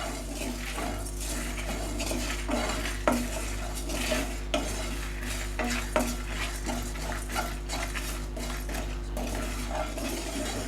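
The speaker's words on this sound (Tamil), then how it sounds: "இந்த கருவேப்பிலை கொஞ்சம் நல்ல மொறுமொறுன்னு ஃப்ரை ஆகணும்" Curry leaves crisping in oil on a medium-low flame for a chicken roast side dish, with a steady low sizzle and repeated metallic scrapes and clinks of a spoon against the pan. No one speaks.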